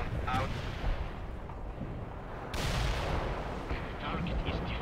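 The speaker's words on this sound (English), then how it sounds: "Anti-tank strike is inbound." Anti-tank strike explosions in the World in Conflict war video game, heavy rumbling blasts layered over continuous battle noise, loud and dense with a sharp new impact partway through.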